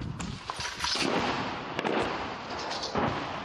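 Gunfire and explosions at a front line, a dense crackle of sharp pops and bursts heard from a distance, irregular and continuous with no pauses.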